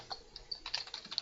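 Quick, light keystrokes on a computer keyboard in an uneven run of taps, faint and close, with no voices.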